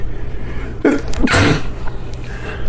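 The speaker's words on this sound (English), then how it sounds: "Hang on, I'm gonna sneeze." A single sharp sneeze bursts out close to the microphone, a quick intake followed by a loud explosive release, then quiet room noise.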